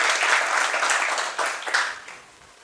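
An audience at a book presentation applauds warmly, dense clapping that holds steady for about two seconds before thinning out and fading.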